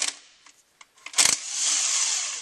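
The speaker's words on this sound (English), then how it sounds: "I'm loosening up these end plates. This one I'm going to take all the bolts out" Short metallic ratchet clicks and a brief sharp burst from loosening bolts on a Mitsubishi DSM valve body end plate, close by, followed by a steady hiss.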